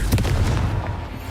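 Confringo fire spell blast from the Hogwarts Legacy video game, a short burst of booming crackle near the start that trails into dense rumbling noise, brief and moderately loud.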